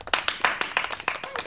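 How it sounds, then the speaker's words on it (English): A small audience clapping in a quick, even rhythm, about nine distinct claps in a short burst, close and clear with no speech. "A round of applause for Otz, Coz, Otz."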